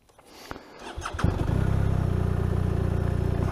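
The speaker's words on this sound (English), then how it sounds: "Start the engine." BMW R 1250 RT motorcycle engine cranks with a few clicks and clatter, then catches and settles into a steady, close, rhythmic idle that continues to the end with no talking.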